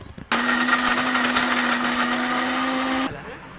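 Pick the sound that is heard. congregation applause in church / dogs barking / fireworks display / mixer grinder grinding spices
mixer grinder grinding spices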